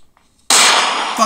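A single loud, sharp gunshot from a firearm in the horror video game Granny cracks suddenly after near silence and then rings briefly.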